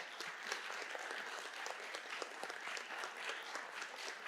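Steady audience applause for a panel at a community event launching a public security bulletin in Maré, a continuous dense patter of many hands clapping, fairly quiet and even throughout.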